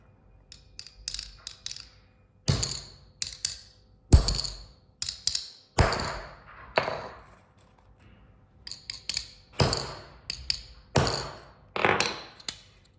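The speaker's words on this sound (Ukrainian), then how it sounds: "Беремо молоток і зараз будемо перевіряти." A hammer strikes a Trivex eyeglass lens repeatedly in uneven bursts, sharp close taps and thumps with short quiet pauses between groups of blows.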